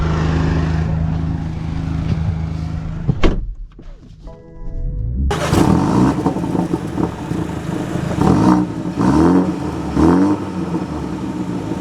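The 2024 BMW M235i starts with a steady engine drone, goes briefly quiet after a thunk, then loud revs rise again and again as the car accelerates.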